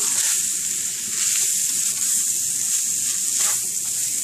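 Onions sizzle steadily in a hot skillet while hamburger and macaroni cook, a constant bright frying hiss that stays loud and even throughout, with no talking.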